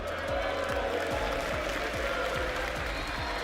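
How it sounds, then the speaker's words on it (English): Crowd in an esports arena at the Six Invitational 2026 finals applauding and cheering, a dense sustained wash of clapping and voices heard from a distance at modest level, with no one speaking up front. "So just keep cheering for us"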